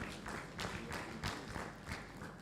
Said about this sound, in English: you can give that a clap